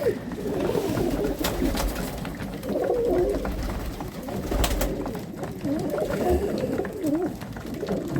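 Pigeons cooing in a loft in freezing winter weather, a near and fairly loud run of repeated throaty coos with wing rustles and small knocks, no talking.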